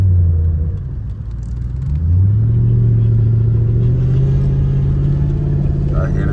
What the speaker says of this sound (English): I hear the turbo.